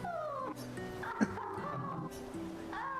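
A cat-like meowing tone sounds in the video game Clair Obscur: Expedition 33, several tonal wails that slide and repeat over quiet game ambience with a single short click in the middle.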